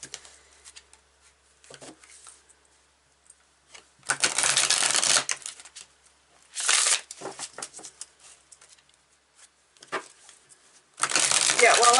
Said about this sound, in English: while I was shuffling the Oracle of the Seven Energies, it was giving me a hard time